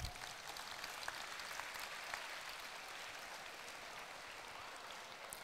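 Steady, quiet applause from a crowd of over 1,400 teachers and students at a talk, a dense patter of clapping that holds evenly throughout without voices over it.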